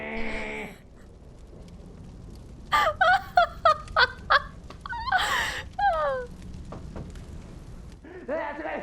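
A cartoonish clucking chicken call in the video game Bloodborne rings out in short, stuttering bursts, several quick squawks in a row with a fainter cluck at the start and end.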